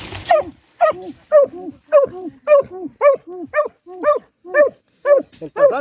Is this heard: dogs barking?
yes